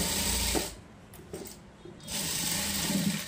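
Sewing machine stitching a boat neck blouse, a close mechanical whirring run that pauses briefly and then resumes in a steady stitching rhythm.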